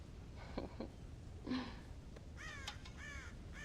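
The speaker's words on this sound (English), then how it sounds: "God damn crows!" Crows in Red Dead Redemption caw several times, harsh calls coming in short bursts and a quick run of repeated caws near the end, moderately distant over a soft ambient bed, no talking.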